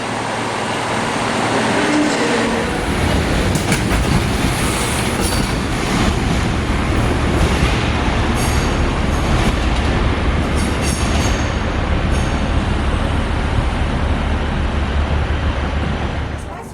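A Metro train rumbles steadily nearby at a station, a loud continuous drone of engine and wheels with faint metallic squeals, no pauses throughout.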